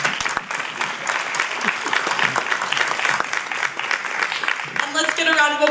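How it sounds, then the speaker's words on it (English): Steady applause fills the hall for the competitors at a student startup competition evening, sustained clapping from a crowd with a voice breaking in near the end. "We give one more round of applause for our competitors tonight."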